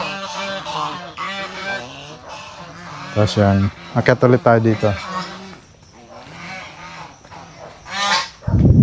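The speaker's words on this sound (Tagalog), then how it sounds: "Ayan, dito na naman yung mga gansa." Geese on a farm in Magalang, Pampanga honk loudly nearby in repeated bursts, while a person talks over and between the calls.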